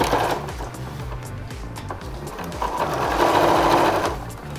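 A sewing machine stitches a one-centimetre U-shaped seam around a fabric drawstring bag, its rapid mechanical needle chatter running close and steady in bursts that speed up toward the end.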